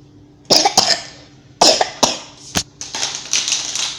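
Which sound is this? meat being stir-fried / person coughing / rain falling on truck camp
person coughing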